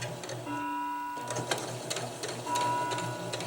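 A sewing machine sews a hammock seam in short bursts, whirring and buzzing in a rapid, even stitch rhythm close by, with brief pauses and clicks between runs.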